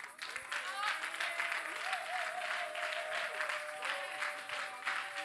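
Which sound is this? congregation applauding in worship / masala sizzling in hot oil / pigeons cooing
congregation applauding in worship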